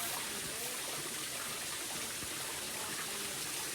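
The waterfall at Sarangani Highland gives a constant rushing, splashing wash of water, even and unbroken, heard from a moderate distance at a soft level.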